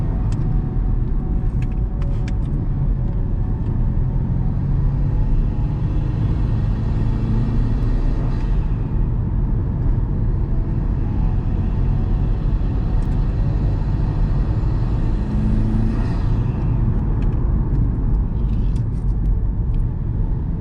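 Steady, loud engine and road rumble fill the cabin of a Subaru STI on a test drive, continuous and unbroken, with tire and wind noise swelling and easing a couple of times and no talking.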